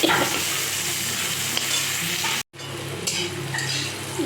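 Bitter gourd pieces fry in hot oil in a home kitchen, giving a steady, loud sizzle throughout with faint stirring scrapes, broken by a brief cut to silence midway before the frying resumes.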